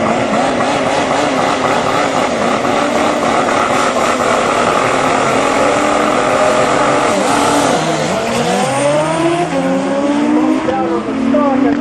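Kawasaki drag-racing motorcycle launching off the start line at a raceway nationals event, a loud sustained engine roar with rising and falling gear-change pitch sweeps, dense and continuous from start to finish.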